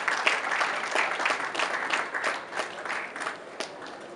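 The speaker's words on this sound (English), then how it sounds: "Please, can we give him a round of applause?" A crowd at a morning conference session applauds the chairman, producing a steady wash of many hands clapping that holds at a fairly even level and eases slightly toward the end.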